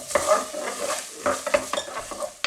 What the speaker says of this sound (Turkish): Hadi soğanımı kavuruyorum.